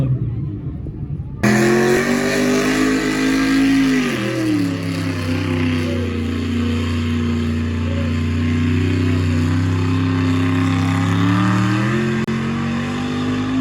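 A Chevy K5/K10 off-road project truck with a carburetor in need of adjustment runs close by. Its engine drones in a steady, rough rumble that dips and recovers briefly before holding a constant roar.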